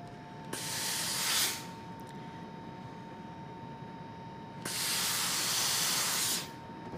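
A steam iron presses a quilt block seam open, letting out two loud hissing bursts of steam, one short and one longer, separated by a quieter stretch.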